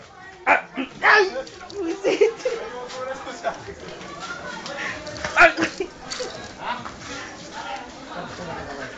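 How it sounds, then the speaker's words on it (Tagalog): Dog barking in short bursts amid loud, overlapping people's talk and chatter, several yaps clustered early and a sharper bark midway, near and fairly loud. "Pare, nangangagat ang aso."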